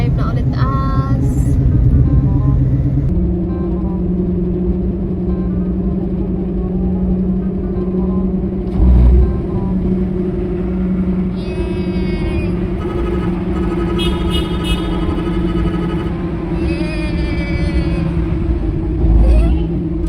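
A minivan camper drives through city streets in Butuan, its steady engine rumble and road noise running throughout, with voices talking over it.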